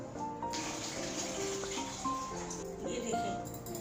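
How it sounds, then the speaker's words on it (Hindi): Water from a glass pours steadily into a cooking pot on the stove, a soft continuous splashing under faint background music. "तो हम इसमें 4 गिलास पानी डालेंगे"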